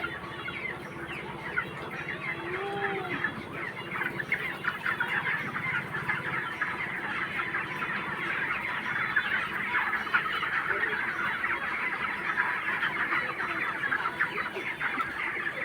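A flock of chickens clucks continuously at close range in the evening, many overlapping calls forming a dense, steady chatter, with a few honk-like notes mixed in.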